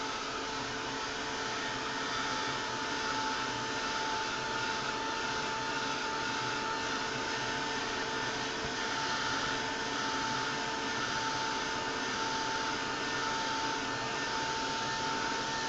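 A heat tool drying 3D gel on a journal cover gives a steady, loud blowing whir with a constant hum that runs unbroken for the whole stretch, with no talking.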